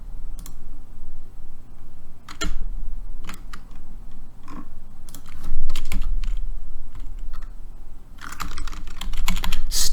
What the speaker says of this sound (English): I'm typing in metal